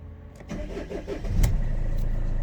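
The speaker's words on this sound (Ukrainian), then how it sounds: "Заводиться з півоборота, працює рівно собі" Cold start of a high-mileage Mercedes-Benz Vito taxi with automatic gearbox: a brief cranking churn, then the engine catches and settles into a steady, close idle with no voices.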